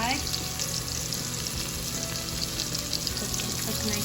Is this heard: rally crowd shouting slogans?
no